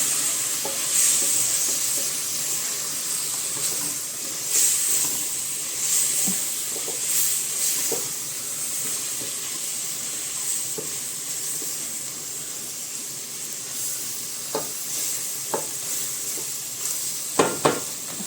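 Black pepper sizzles steadily in a hot pan as it is stirred, with a continuous frying hiss, soft scraping strokes throughout and a few sharper clicks near the end.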